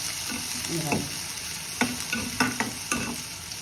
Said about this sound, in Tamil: பூண்டு வெங்காயம் கறிவேப்பிலை இது வந்து நல்ல பொன் வறுவலாக வரணும்